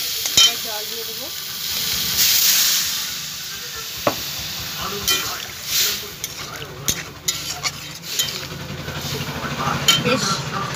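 Stem and mustard curry frying and being stirred in a pan, a steady sizzle with scraping spoon strokes and occasional clinks, close up and continuous.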